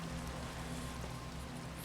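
Steady, soft rain hisses continuously in the Minecraft game world, a dense even patter with no pauses and no voices.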